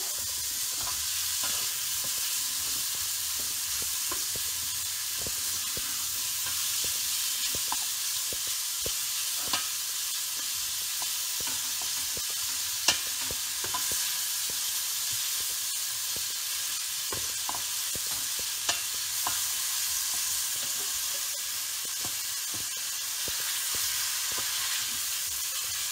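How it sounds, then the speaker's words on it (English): Bacon fat sizzles steadily as a potato soup base is stirred in it, a dense continuous frying hiss with faint scattered pops and scrapes throughout. "So I'm going to let you stir that and stir it in a minute."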